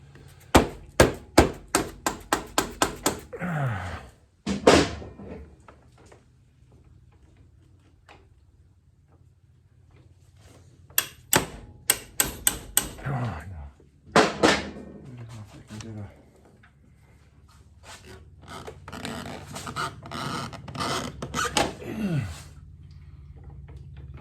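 Several sharp urethane hammer strikes on metal come in quick bursts with pauses between, ringing briefly, during Honda ST1300 fork seal work, alongside occasional talking nearby.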